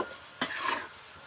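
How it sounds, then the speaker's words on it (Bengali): Bottle gourd stir-fried in a pan: a soft background sizzle broken by one sharp scrape of the spatula and a brief rustle as the pieces are turned. "আমি রান্না করতে এইভাবে ভাজতে থাকবো"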